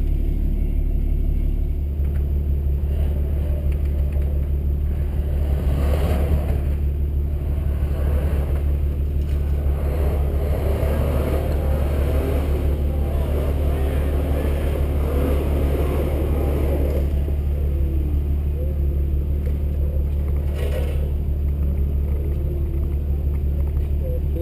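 Off-road vehicle engine rumbling and revving under throttle during winter wheeling, a steady deep drone with a few swells of power, with people talking over it at times.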